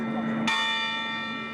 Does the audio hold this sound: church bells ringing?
yes